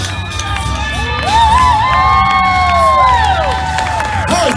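A large crowd at the Queen Mary Dark Harbor Halloween event screams, whoops and cheers loudly for a performer, with sustained high-pitched shrieks rising and holding for several seconds.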